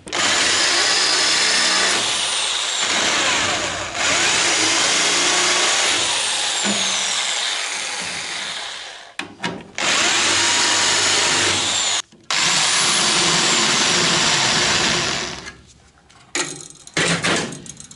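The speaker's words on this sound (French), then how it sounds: "Maintenant, je vais les fraiser légèrement." A power drill countersinks rivet holes in the sheet-metal body of a Citroën Traction 11B, whirring loudly in long sustained bursts separated by brief pauses and short stutters, close up.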